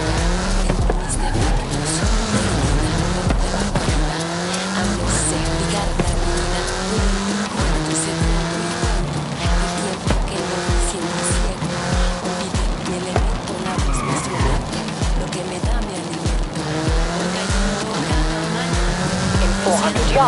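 A supercar in Forza Horizon 5 races loudly with the engine revving up and down through gear changes and repeated tire squeals and skids, while a voice talks faintly underneath.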